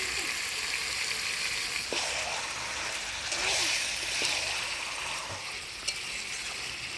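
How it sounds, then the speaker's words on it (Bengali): Rinse water from a meat bowl hits chicken cooking in spices, setting off a continuous hissing sizzle broken by occasional scrapes and clinks of stirring. "এবার মাংস গামলা ধোয়া জলটা দিয়ে দিই"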